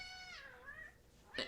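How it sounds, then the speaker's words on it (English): A house cat gives a drawn-out, wavering meow that bends down and back up, followed a moment later by a short, sharper cry, both faint and heard indoors with no talking. "Sorry about my cats kind of running around here."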